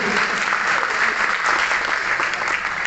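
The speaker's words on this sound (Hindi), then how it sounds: "एक बार जोरदार तालियां गिरधर गोपाल के लिए।" An audience claps steadily and densely at a retirement function for a thermal power plant engineer, a loud, even wash of applause filling the whole stretch without pause.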